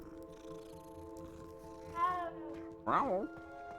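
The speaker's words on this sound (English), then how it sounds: "We have to stop and pet the cat." A cat in the video game Hogwarts Legacy is petted and gives two short, rising cat calls over a steady, quiet tonal background.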